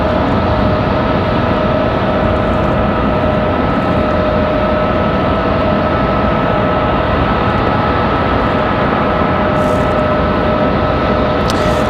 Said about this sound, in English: this one coming in from Fort Lauderdale, Delta 1018, and an A320